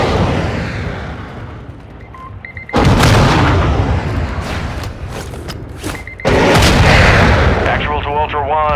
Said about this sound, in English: Positive impact, aircraft destroyed.